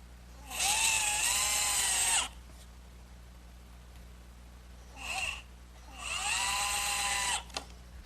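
A power drill drives coarse-thread hot-dipped galvanized Phillips screws into softwood for an Adirondack chair, in two long high whirring bursts and one short one, each winding up and stopping abruptly, close and loud.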